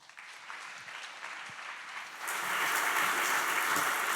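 An audience claps to welcome a speaker to the stage at a science talk. The applause is steady and then swells louder and denser partway through.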